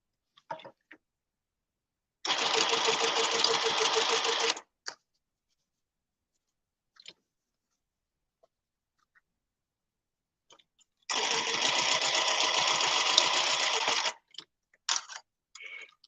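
A Juki sewing machine stitches in two short runs of rapid mechanical whirring, each about two seconds long. The runs are separated by a quiet stretch with faint clicks and handling taps.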